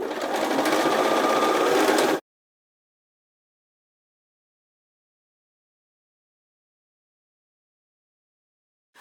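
Sewing machine topstitching fabric over an elastic waistband: a steady, close, rapid whir of stitching for about two seconds, then it stops and silence follows.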